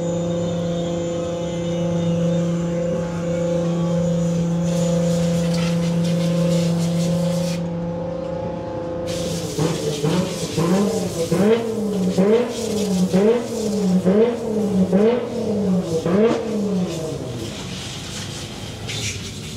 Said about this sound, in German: Hier das Auto von Dirk von Zitzewitz, also S3-Fahrer.